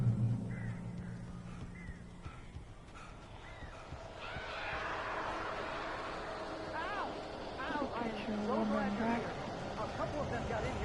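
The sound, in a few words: birds cawing inside a cabin, from the video game Alan Wake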